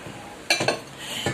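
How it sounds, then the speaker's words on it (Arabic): Two bags of roasted peanuts are poured out while making honeyed mchewek sweets, giving a few short, close rattling bursts with hard clinks like nuts striking a bowl, separated by brief quiet gaps. "دوكا نفرغوا زوج كيسان كاوكاو محمص فوالا"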